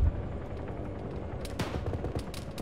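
Sustained automatic machine gun fire in an Arma military game session, a dense stream of rapid shots with bursts growing sharper and louder partway through, continuous with no pause.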